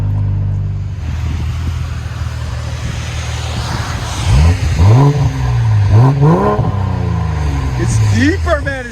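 BMW X5 M40i 3.0L with a modified exhaust, idling loudly and then revving several times in rising, deep bursts close by.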